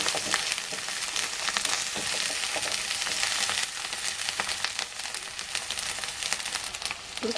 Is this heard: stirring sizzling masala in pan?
yes